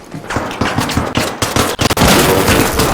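Rapid bursts of gunfire from a video game, a shotgun among them, crack loud and close in a dense, chaotic volley that thickens into sustained firing toward the end.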